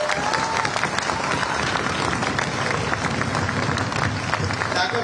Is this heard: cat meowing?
no